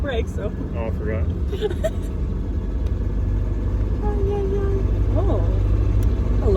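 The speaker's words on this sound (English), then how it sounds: "Oh, I love driving this little car, man." A small MG Midget car drives with its engine rumbling low and steady under the cabin, its pitch rising slightly as it pulls along, while people talk over it.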